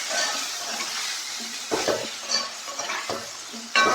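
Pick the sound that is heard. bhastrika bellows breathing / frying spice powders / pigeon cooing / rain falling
frying spice powders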